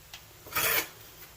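Leftover silver scraped into place for casting, a short, close rasping scrape lasting under a second against a quiet background.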